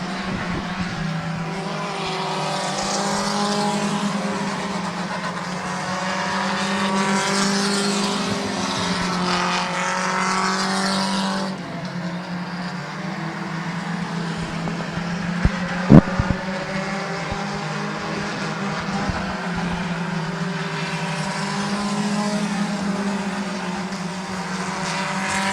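Race cars roar around the Midvale Speedway track in a steady, loud engine drone, several cars battling close together, with pitch shifting as they pass and a few sharp knocks partway through.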